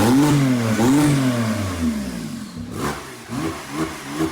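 A straight-piped Porsche 911 Turbo with its exhaust valve open revs hard up close, rising and falling in loud swells, then settles into lower blips and rumbles.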